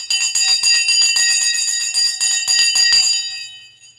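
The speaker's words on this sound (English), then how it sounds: "Let's ring the bell." A bell rung rapidly and continuously, a loud bright metallic ringing with quick repeated strikes for about three seconds before fading out, close and without talk.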